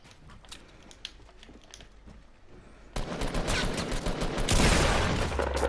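Video game gunfire starts suddenly midway as loud rapid bursts, after quieter keyboard-like clicking, and grows denser and more intense toward the end.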